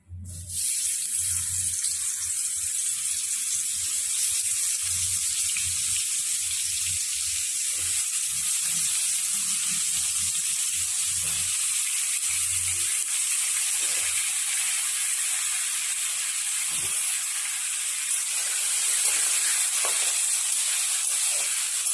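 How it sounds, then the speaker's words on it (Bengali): Potatoes frying in hot oil in a kadai while a soybean curry is being made; a steady, loud sizzling hiss runs unbroken from start to finish with no voices. "এখন আমি কড়াইতে তেল দিয়ে দিয়েছি, এবার আলুগুলো ভেজে নেব।"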